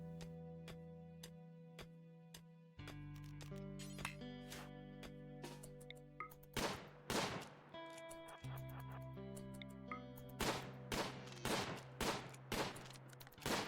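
Video game gunfire bursts as something is shot open, several sharp loud cracks and rapid volleys over a steady musical backdrop, with shots clustering toward the end.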